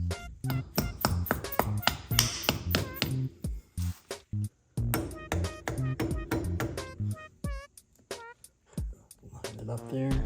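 A rubber mallet knocks a drive hub cover into place on a Polaris Scrambler 500, giving a quick series of close, dull taps in uneven bursts with short pauses between them.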